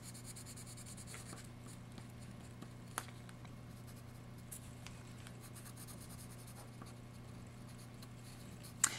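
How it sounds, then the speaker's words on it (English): A marker colors in a mixed media canvas with soft, steady scratchy strokes that are faint and close, with no talking. "I know exactly where I need to color in"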